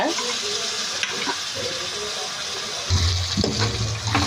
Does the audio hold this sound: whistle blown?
no